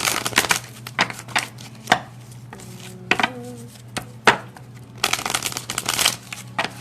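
Rapid riffling and snapping of cards, repeated in quick bursts with short pauses between, close and crisp, no voices.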